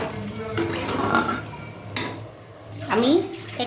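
Water is poured into frying mustard paste in a kitchen pan, giving a hissing sizzle and splash amid stirring and clinks of utensils, with a second louder sizzling burst near the end.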